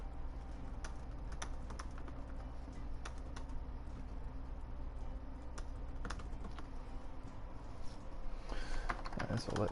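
Clicks from a computer keyboard being typed on, rapid irregular taps at moderate level over a steady low background hum, with a louder burst of activity near the end; no talking.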